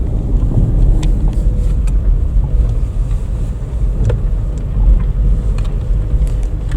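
An old 1990s car drives along a rough village gravel road, a steady close engine rumble with road and wind noise throughout and no speech.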